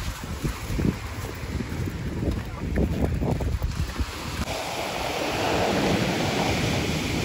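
Surf washing onto a beach in Alanya, Turkey, with wind buffeting the microphone, the roar of the waves building steadily and filling the last few seconds.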